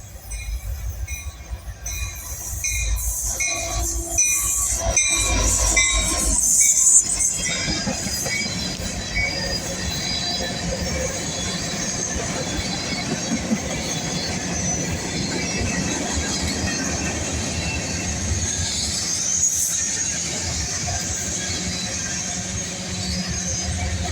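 A westbound freight train led by two GP60 locomotives passes close by, a loud, steady roar of engines and rolling wagons with occasional wheel squeal, holding strong throughout without any talk.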